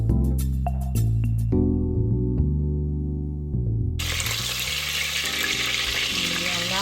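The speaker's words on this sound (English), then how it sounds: "Allow it to fry in the palm oil for about 1 or 2 minutes" Salted fish fries in hot melted palm oil in a pot for okra stew, with a steady loud sizzle rising after a stretch of low musical tones.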